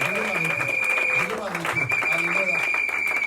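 A church congregation applauding and cheering in acclamation of Jesus, steady clapping and voices filling the hall while a preacher speaks over it.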